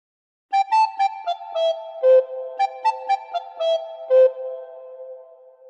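Recorder playing a phrase of Frère Jacques, clear, breathy single notes in a simple tune, played twice in a row with short gaps, alone and fairly quiet.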